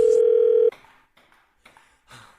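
A telephone line tone sounds for a radio prank call: a loud, steady electronic tone holds for under a second and then cuts off abruptly, followed by faint, sparse clicks and line noise.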